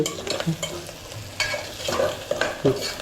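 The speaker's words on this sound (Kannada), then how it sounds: "ಈರುಳ್ಳಿ ರೋಸ್ಟ್ ಆಗ್ತೈತಿಲ್ಲ" Onions fry in a pan while being stirred, with repeated scraping and clinking strokes over a steady sizzle, close and fairly loud, no talk.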